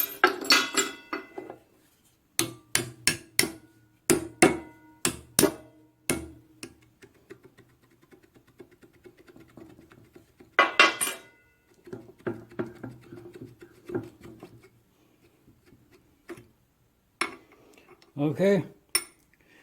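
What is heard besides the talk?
extracting broken gib key from hit and miss engine flywheel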